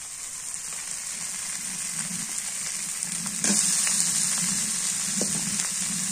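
Tomatoes go into hot oil while river aar fish curry is cooking, and the steady sizzle jumps louder and brighter partway through, continuing as a close, dense crackle.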